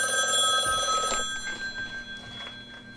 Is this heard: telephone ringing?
yes